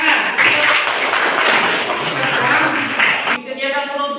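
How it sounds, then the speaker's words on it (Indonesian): Students in a school civics classroom clap together in a lively burst that lasts a few seconds and then stops, giving way to a voice. "Mari tepuk tangan."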